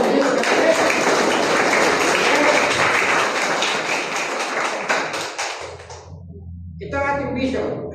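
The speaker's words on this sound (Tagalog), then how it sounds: "Isa pang palakpak ng pagdinig ng katabi." A church congregation at a Sunday service claps together in a dense, loud burst of applause that fades out, followed by a brief voice near the end.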